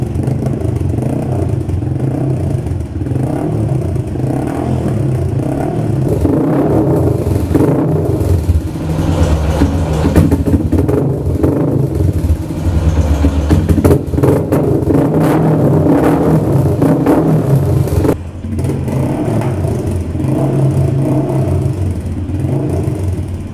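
A Hero Xtreme Sports motorcycle engine warms up at a steady idle, its low rumble rising and falling as the throttle is revved several times, loud and close with no talking.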